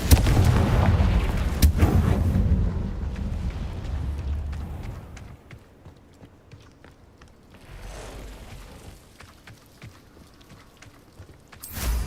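A Confringo fire spell in the video game Hogwarts Legacy blasts rocks, a loud booming explosion followed by a long rumbling, crumbling decay, then a smaller burst at the end.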